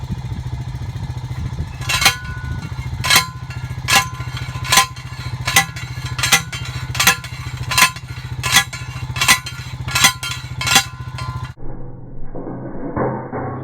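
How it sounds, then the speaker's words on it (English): Manual fence post driver pounding a fence post, a dozen evenly spaced loud metallic clanks over a constant engine drone, ending with softer shuffling. "Macy is driving a fence post"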